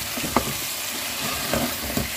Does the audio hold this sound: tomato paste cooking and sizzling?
yes